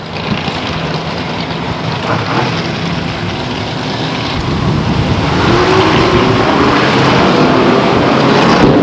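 Race cars at Stockton 99 Speedway roar in a dense, continuous pack of engine noise, a steady loud drone that swells louder partway through as the field comes by on the green flag, with no talk over it.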